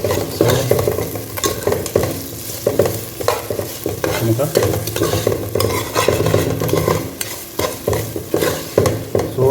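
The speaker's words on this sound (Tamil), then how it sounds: "ஓகே நண்பா, உப்பு மிக்ஸ் பண்ணிடுறேன்." Onions, tomatoes and salt fry in a pan for a fish head curry while a spoon stirs steadily, giving a constant loud sizzle with scraping strokes throughout and one short spoken word.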